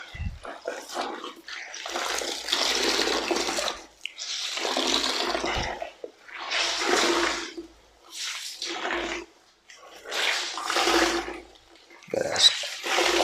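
Clothes being hand washed and wrung out in a tub of water, repeated sloshing and squelching bursts of a few seconds each with short pauses between, close and fairly loud.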